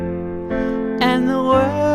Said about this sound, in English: The first chorus ends with a little bit of a weird piano part.